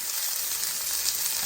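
Vegetables sizzle in hot cooking oil with a dense, steady crackle that stays close and even throughout.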